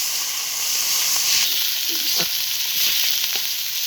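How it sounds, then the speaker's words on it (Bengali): Spice paste of salt, turmeric and dried chili powder fries with fish in oil on a clay stove, giving a steady close sizzle with a few faint scraping stirs throughout. "মশলাটা আমার তেলের উপরে ভালো করে ভাজা হয়ে গেছে"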